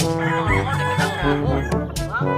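Rooster crowing loudly and close, in long harmonic calls, with chickens clucking around it and no other sounds.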